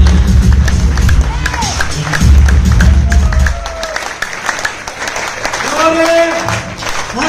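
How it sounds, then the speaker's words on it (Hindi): Loud, dense applause from the audience at a free business programme fills the first few seconds, then fades as a voice takes over. "जोरदार तालियां।"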